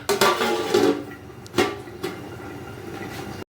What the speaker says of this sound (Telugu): ఓకే, ఇప్పుడు మూత పెట్టాలి